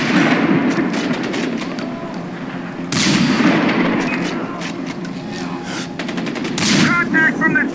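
Sustained automatic gunfire rattles through a Far Cry 4 firefight, loud bursts peaking near the three and seven second marks over a constant background din of battle, with voices shouting among the shots.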